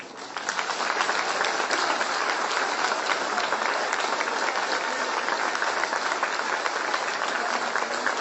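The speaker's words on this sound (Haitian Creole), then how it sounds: "Donc 1 minute d'applaudissement." A crowd claps together in sustained applause, a dense, even roar of many hands that swells in within the first second and holds steady at full strength throughout.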